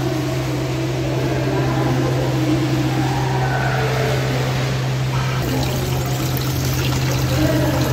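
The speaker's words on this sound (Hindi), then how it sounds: "ये इधर से पानी आ रहा है" Water runs steadily from taps at the ablution area of the Sheikh Zayed Grand Mosque in Abu Dhabi, a continuous close splashing flow with a low steady hum beneath it.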